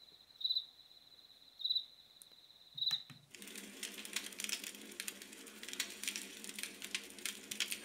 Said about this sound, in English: And we do have crickets.